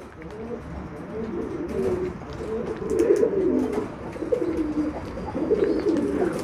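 Pigeons placed together in one space coo repeatedly, their soft, throaty calls rising and falling in a steady run of phrases close to the listener.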